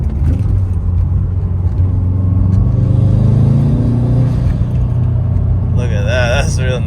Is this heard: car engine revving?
yes